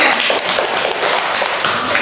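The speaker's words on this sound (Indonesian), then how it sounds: "silakan duduk dan beri tepuk tangan" Students in a classroom give a round of applause, a loud, dense flurry of clapping that runs evenly for two seconds.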